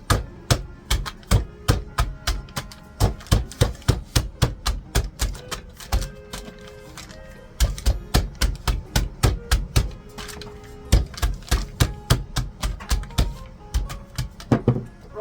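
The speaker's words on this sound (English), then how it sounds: "I want to leave it in here and just whack it as flat as possible." Sausage meat inside a bag whacked flat with a rolling pin in a quick rapid series of hard thumps, grouped in bursts with short pauses, loud and close.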